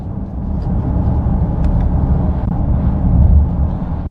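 Low, steady engine and road rumble inside the cabin of a Jaguar F-Pace SUV while driving, a continuous moderate drone with no voices over it.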